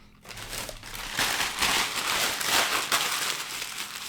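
Paper is crinkled and handled during a birthday unboxing of a GeekUp Marvel box, with close, crackling rustles that start abruptly and continue in uneven bursts.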